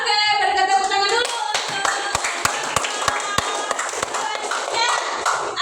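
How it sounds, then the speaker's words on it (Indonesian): A school class claps briefly and unevenly, sharp hand claps close by, mixed with children's voices chattering. "berikan tepuk tangan dulu."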